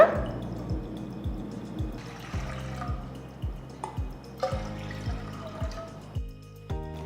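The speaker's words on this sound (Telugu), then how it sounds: "1/4 కప్ రాగి పిండికి నేను 3 కప్పుల నీళ్లు పోస్తున్నా" Water pours and splashes into a pan for cooking ragi flour in uneven bursts, close up, with rhythmic dripping and gurgling, no voices.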